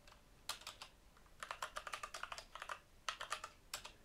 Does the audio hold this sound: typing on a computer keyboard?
yes